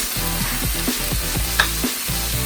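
Whole spinach goes into a hot pan, a close, loud, continuous sizzle with rhythmic scraping and tossing pulses, and no one speaks.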